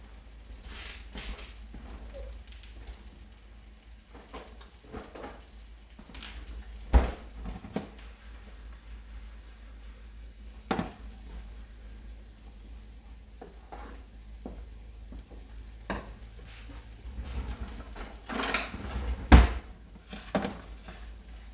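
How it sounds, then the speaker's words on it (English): Tostada filling sautés in a pan with a soft, steady sizzle, broken by intermittent scrapes and knocks of a utensil stirring against the pan, near and moderately quiet. "You want to saute those until they reduce down."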